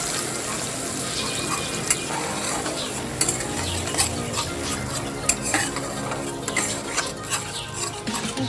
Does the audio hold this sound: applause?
no